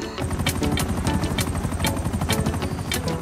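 A helicopter in GTA 5 Online drones with rapid, pulsing rotor thumps and a constant engine whine, loud and close throughout with no talk over it.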